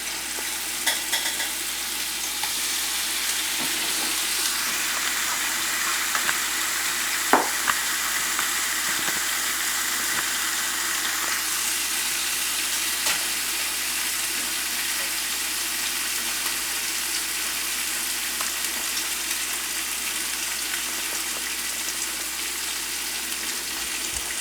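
French toast fries in butter in a pan with a steady, continuous sizzle that holds an even level throughout. A single faint clink sounds about a third of the way in.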